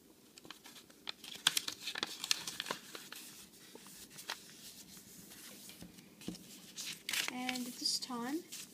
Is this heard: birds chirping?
no